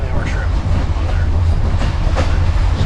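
An overnight passenger train from Montenegro rolling along, with a loud, close, continuous rumble, wheel clatter and rattling carriage noise throughout.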